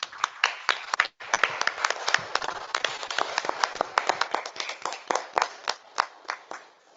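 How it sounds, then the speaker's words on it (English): A small group at a Boynton Beach city budget workshop claps for municipal staff: sharp, distinct hand claps from a handful of people, close and crisp, briefly dipping before continuing and thinning out near the end. "we give a nice round of applause for our city staff"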